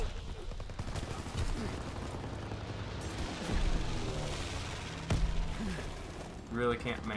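Shotgun fire during a first-person shooter firefight on a balcony: repeated gun blasts in rapid succession, moderately loud and layered with game noise, continuing through the whole stretch.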